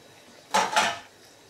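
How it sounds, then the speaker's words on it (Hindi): Boiled beans are tipped into a basket to drain, making a brief double rush of splashing and rattling that lasts about half a second in otherwise quiet surroundings. "अब हम बीन्स को एक टोकरी में छान लेंगे।"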